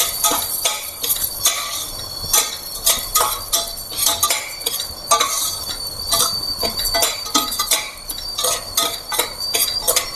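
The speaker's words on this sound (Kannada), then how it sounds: "ತುಪ್ಪ ಹಾಕ್ಬಿಟ್ಟು ತುಪ್ಪದಲ್ಲಿ ಗಮ್ ಅಂತ ಹುರ್ಕೋಬೇಕಿದ್ನ ಗೋಧಿ ತರಿನ." Broken wheat roasted in ghee in a pan, with a spoon stirring and scraping in quick, repeated clinks over a soft sizzle, close and continuous.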